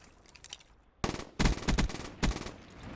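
Bursts of automatic gunfire from Call of Duty: Black Ops III, several rapid volleys after a quiet opening, loud and close with brief gaps between them.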